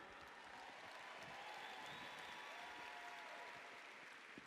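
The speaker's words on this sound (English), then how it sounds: "we should applaud her" A large audience at a corporate wellness convention keeps up a faint, steady round of applause, distant and even throughout, with faint tonal sounds drifting underneath.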